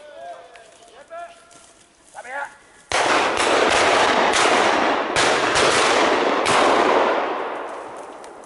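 Shotgun blasts on a pheasant hunt, several sharp cracks in quick succession out in the open, with loud crackling noise between them and voices and bird calls before.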